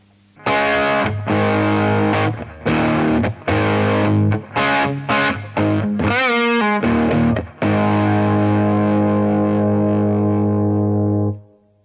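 Zander Circuitry Cranium distortion pedal on a Telecaster with single-coil pickups, heard as a series of crunchy, moderately driven chords and short stabs, a brief sweeping pitch wobble, then a long sustained chord ringing out and fading.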